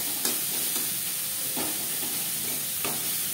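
Onion fries with salt, turmeric and chilli in a little oil for a fish curry with ridge gourd: a steady sizzling hiss broken by a few spatula stirs, with no talking.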